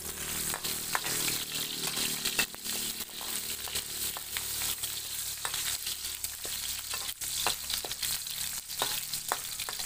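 Ginger frying in hot oil in a pan, a steady close sizzle with small pops and occasional stirring clicks, no speech.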